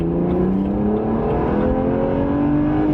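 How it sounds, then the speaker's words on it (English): A BMW 1M's turbocharged engine pulls hard in second gear, its steady rising drone climbing in pitch as the car accelerates, loud and continuous from inside the car. "Let's do some second gear acceleration here."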